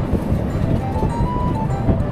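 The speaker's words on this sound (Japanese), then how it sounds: "ちょっと風強いな、音入ってるかな。" Strong outdoor wind buffets the microphone in a continuous low rumble, with a faint thin tone running under it briefly.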